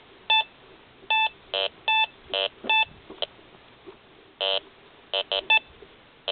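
Eurotek Pro metal detector sweeping over trashy ground, giving a series of short choppy electronic beeps and bursts of tone, irregular and broken, with quiet gaps between them.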